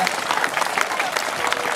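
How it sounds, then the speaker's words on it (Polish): Spectators applaud seven teams at a children's football tournament held by SI Arka Gdynia, a steady patter of clapping from a modest crowd lasting throughout. "Oklaski dla 7 drużyn od kibiców."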